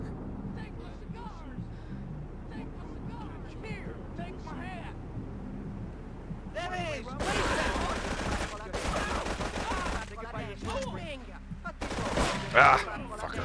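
AK assault rifle fire in GTA III Definitive Edition: several rapid bursts of automatic gunfire in short clusters, with a person talking throughout.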